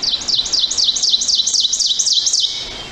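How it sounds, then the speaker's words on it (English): A loud, close ovenbird song of rapid repeated two-note phrases, about nine in a row, rising in a steady rhythmic chant. "the oven bird, extremely loud. And they shout, teacher, teacher, teacher, teacher."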